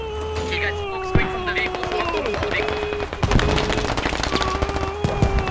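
Friendly SAW machine gun fire in the video game Squad crackles in rapid bursts over a busy battlefield mix, with sharp shots scattered throughout and people talking over the fire.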